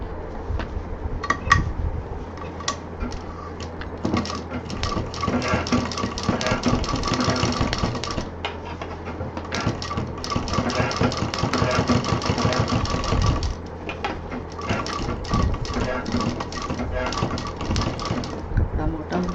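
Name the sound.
sewing machine stitching a tote bag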